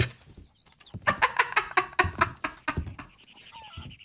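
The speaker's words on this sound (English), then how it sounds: "no, that's a chicken coop." Chickens at a coop in Red Dead Redemption 2 clucking in a quick run of sharp, closely spaced calls, then a few scattered softer clucks near the end.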